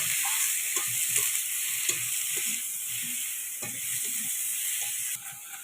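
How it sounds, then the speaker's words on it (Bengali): Food with chilli powder being stirred in a hot pan, a steady sizzling hiss broken by soft, irregular scraping taps of the utensil, close up and without talk. "এবারে ভালো করে নেড়ে নেবো।"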